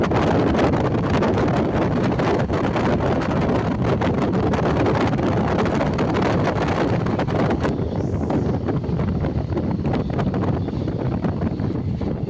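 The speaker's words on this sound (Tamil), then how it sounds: "லோக்கல் இஎம்யூ ட்ரெயினில் நம்ம ட்ராவல் பண்ணி போயிட்டுருக்கோம்." Inside a new local EMU electric train running from Tiruvallur to Avadi, a loud, constant rumble of wheels and motors blends with rushing wind from open windows. It continues without a break.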